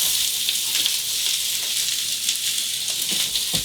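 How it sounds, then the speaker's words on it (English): Onions, peppers and carrots frying in hot peanut oil in a wok, a loud, steady, close hiss of sizzling with faint crackles and no talking. "And once the oil's hot, I'm going to add in the onions,"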